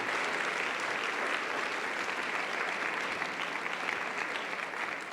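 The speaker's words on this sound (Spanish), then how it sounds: "dale las gracias con un aplauso por esos hijos tan bellos" A church congregation at a Sunday service applauds steadily, a dense, even wash of many hands clapping together at moderate volume for several seconds without a break.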